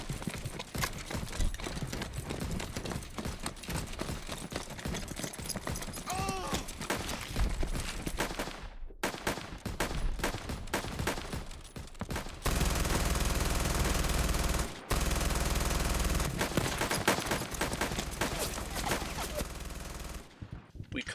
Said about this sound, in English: half of the 2nd Platoon, led by Buck, opens fire on the 2nd street